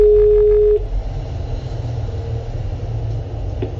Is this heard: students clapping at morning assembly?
no